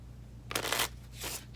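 A deck of playing cards is riffled at a small table in two quick bursts, soft and close, in a quiet room.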